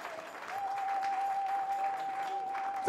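A church congregation applauds steadily and fairly close for about three seconds, a sustained clapping wash with a held tone running beneath it.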